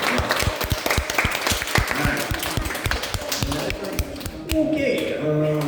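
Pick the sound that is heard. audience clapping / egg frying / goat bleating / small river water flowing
audience clapping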